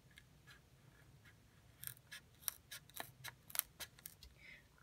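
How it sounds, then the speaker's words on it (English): Several crisp scissor snips cutting through a plastic Pro-Line Trifecta 1/8-scale RC car wing, close up. They come in an uneven series after a quiet start. "get your scissors and just start cutting away"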